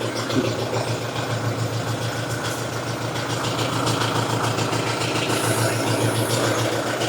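A Globalagro loader tractor's engine idles steadily with a low, continuous rumble and a persistent rattle running throughout, close and fairly loud with no talking.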